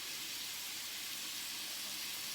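Meatballs sizzle in a frying pan, a steady, fairly quiet hiss of browning that stays even throughout with no voices.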